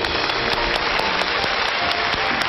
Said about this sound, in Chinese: 我们把掌声送给